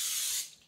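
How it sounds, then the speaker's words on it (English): A short hissing burst of cooking spray coats a 9 by 13 inch baking pan, holding steady for a moment before trailing off quickly. "I spray it just for easier cleanup."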